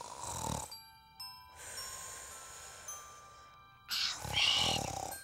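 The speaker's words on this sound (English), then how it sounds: "Quit snoring!" A cartoon character snoring in a children's cartoon, with a few long, loud snores separated by short gaps, alongside light tinkling chime sounds.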